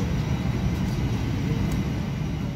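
A passenger airliner landing at Simferopol airport after a flight from Yekaterinburg gives a steady, loud broadband roar of engine and airflow noise that continues unbroken, with no voices.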